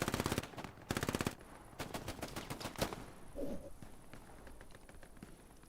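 Machine gun fire from a strafing run in Hell Let Loose, with loud rapid bursts chattering close by, then scattered shots and impacts trailing off into quieter battlefield noise.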